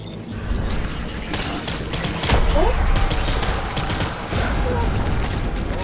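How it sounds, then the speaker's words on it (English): Dense gunfire in the video game Death Stranding, a sustained, loud barrage of overlapping shots and rattling bursts running the whole stretch with a heavier boom partway through, over continuous rumbling background noise. "Taking fire."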